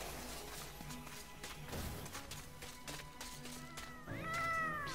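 Cats meow in the MediEvil video game amid clattering game sounds, with one clear rising meow near the end.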